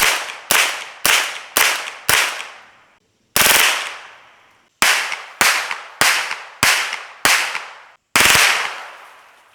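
Suppressed gunshots from HUXWRX Flow suppressors firing 115-grain ball ammo at a range, loud close cracks in quick strings with short echoing tails and a few longer pauses between groups.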